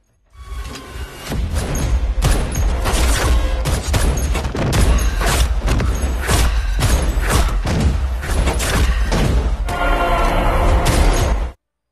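Rapid gunfire bursts crackle almost continuously through an Indian action film shootout, dense overlapping shots and booms filling the whole stretch before cutting off abruptly.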